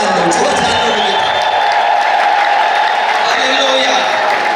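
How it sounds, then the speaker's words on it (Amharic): A church congregation applauding, shouting and ululating together, a dense, loud, continuous roar of clapping and voices with high trilling cries carrying throughout. "ማን ነው እልልታ ያለው ጭብጨባ ያለው ጩኸት ያለው?"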